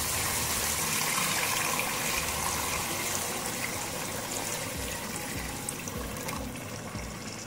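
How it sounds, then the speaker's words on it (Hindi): Water pours steadily into a pot of frying split green moong dal, a continuous gushing splash that gradually softens as the pour ends. "अब इसमें हम पानी शामिल करेंगे।"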